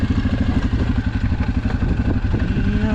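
A Suzuki KingQuad ATV engine runs steadily up close in a snowstorm, its low, pulsing rumble holding through a continuous engine-braking stretch with faint clatter and no voices.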